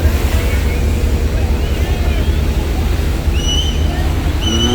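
A large passenger launch cruising on a river at night, racing another launch, gives a steady low engine rumble with rushing water and wind noise throughout, and faint high whistles or calls drift in the background.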